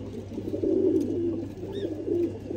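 A pet pigeon coos softly and close by in a few low, throaty rolling phrases over a faint steady hum, with no talk.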